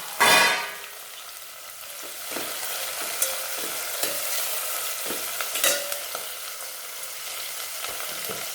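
Tomato and onion sauté with curry leaves in a pan, making a soft sizzle with a loud clatter at the start and then intermittent stirring scrapes and taps close by. No one speaks.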